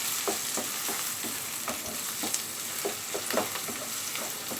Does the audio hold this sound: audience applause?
no